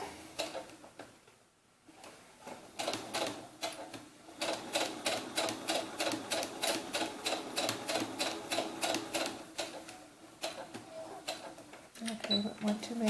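A sewing machine top stitching a doll's sunsuit runs in long steady bursts of rapid, even needle clatter, close and fairly loud, starting and stopping in short runs with brief pauses.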